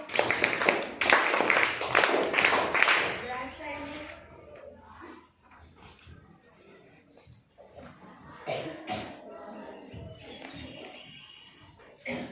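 A school audience of children claps together for a few seconds after an eighth-grade pupil's recited prayer poem. The claps are dense and close, then fade, followed by quieter rustling and voices.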